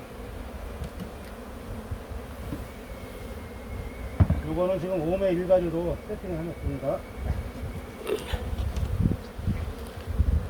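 Honeybees buzz densely around hive frames set up in a five-frame box, a close, wavering drone that rises midway, while someone talks over it.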